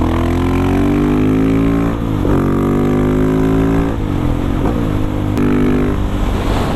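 Husqvarna 701 supermoto single-cylinder engine under way on the road, a loud close droning growl that rises in pitch through gears, with brief dips at shifts and rising revs after each change.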